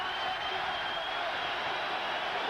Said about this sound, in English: you'll hear a big roar from the crowd